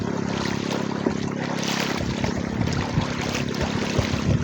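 A small wooden paddled boat rides a strong river current, with steady rushing water and broadband wash throughout, occasional soft knocks and splashes, no talking.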